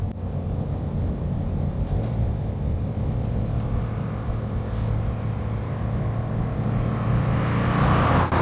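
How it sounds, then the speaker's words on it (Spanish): Alfa Romeo 105 Giulia engine running with a steady low rumble, near and fairly loud, rising slightly in intensity toward the end as it builds revs. "pero suena genial. El motor, aunque es realmente deportivo, en realidad cumple muy bien"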